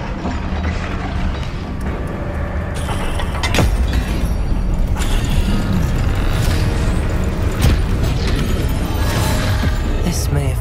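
A Confringo blasting spell going off in the Hogwarts Legacy video game during a rescue fight: a sudden boom with crumbling debris set in a dense, loud wash of game effects and music.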